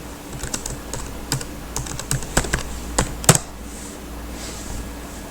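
Fingers tap on a computer keyboard while logging in to a student LMS portal, giving scattered clicks and short bursts of keystrokes at close range, with no voices.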